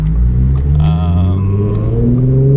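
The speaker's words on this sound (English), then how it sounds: "Cruised up with his S4 to come listen to the Polo Performance exhaust." An Audi B8/B8.5 S4 with a Polo Performance aftermarket exhaust revs up loudly nearby, a deep throaty rumble rising steadily in pitch.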